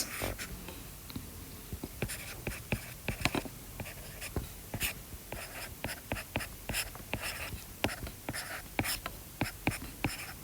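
A pen scratches out a maths expression on paper in a quiet room, a steady run of short, faint, dry strokes and taps close by, with no talking.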